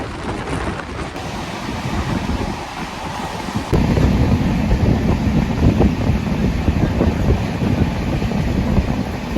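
The 12871 Titlagarh Ispat Express on the Howrah to Ghatshila line running at about 130 km/h: a continuous roar of rumble and wind rush that swells louder partway through and stays steady and close.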